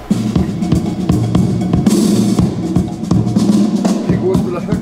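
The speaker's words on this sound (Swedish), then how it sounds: "Här är trummor." A drum beat plays through a small, lightweight JBL portable speaker, steady kick, snare and cymbal hits in a loud, driving rhythm heard close.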